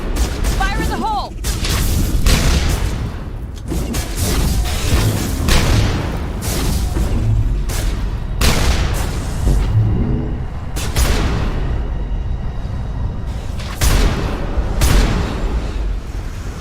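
Grenades go off in Mass Effect combat as repeated heavy booms, one after another, over a constant roar of battle noise that stays loud throughout.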